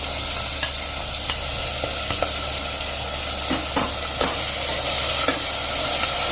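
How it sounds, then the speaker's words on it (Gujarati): Medium potato pieces frying in oil over a slow-to-medium flame for Gujarati rasiya bhat, a steady close hiss of sizzling with scattered soft pops and light stirring scrapes throughout. "એને પણ આપણે આ રીતે તેલમાં જ 2 થી 3 મિનિટ કૂક કરી લેશું, સ્લો ટુ મીડિયમ ફ્લેમ ઉપર જ."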